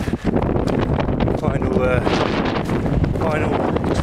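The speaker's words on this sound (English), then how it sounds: "Again, quite windy" Strong wind buffets the microphone with a continuous rumbling roar that swells and dips in gusts.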